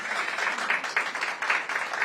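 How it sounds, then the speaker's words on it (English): An audience applauds for the Cherry Blossom Festival team at a public announcement event, a steady patter of clapping heard faintly and at a distance. "Let's give Team Cherry Blossom Festival a big round of applause."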